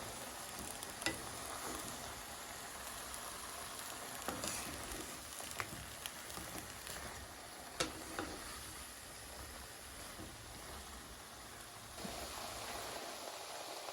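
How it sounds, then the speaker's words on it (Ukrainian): Steady soft sizzling and bubbling of zucchini stewing in its own juice in a non-stick pot, with a few light clicks and stirring taps. "Вони тушкуються у власному соці, вони і далі випускають сік, і в той же час вони не пригорають."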